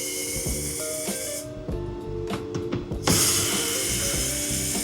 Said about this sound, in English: got this new snap-on electric ratchet